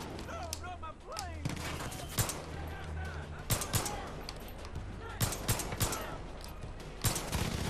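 Gunfire erupts in the video game Far Cry 5 as a run of sharp shots and bursts spread across the scene, mixed with other game sounds and a voice speaking over it.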